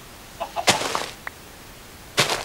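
A chicken in Minecraft gives a few short clucks, then a sharp burst of clucking near the end, close and fairly loud against quiet.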